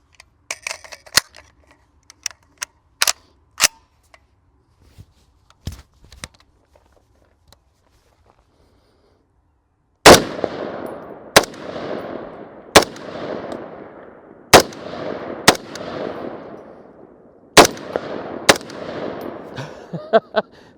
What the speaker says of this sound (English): I'll probably go shoot some more rounds through it now.